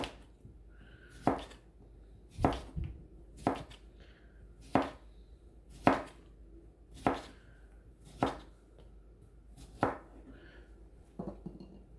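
Knife chopping cucumber on a cutting board for a spicy Korean cucumber salad, about nine crisp, evenly spaced cuts close by, with quiet pauses between them and no talk.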